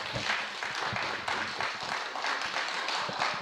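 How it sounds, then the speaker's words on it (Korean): A church congregation at a Thursday worship gathering gives a round of applause, steady dense clapping from many hands throughout, fairly close and without talk over it. "큰 박수 부탁드립니다."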